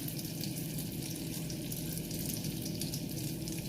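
Chicken broth pouring into a saucepan that already holds melted butter, a steady, continuous liquid stream running close and alone for several seconds without any break.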